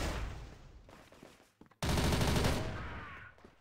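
Rapid gunfire in the video game CrossFire, including a 9A-91 rifle, crackles loudly, pauses briefly, then a dense, sustained burst of shots erupts, harsh and close.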